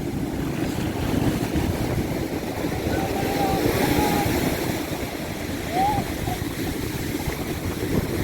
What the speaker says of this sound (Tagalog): Boryong, dito atras, malakas ang alon.